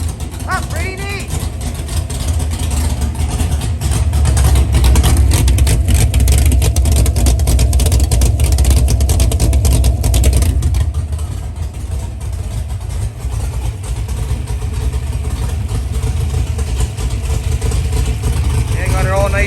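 Warm idle of a car engine running open headers, a loud steady rumble that fills the whole stretch, with people talking over it and a few mechanical clicks near the start.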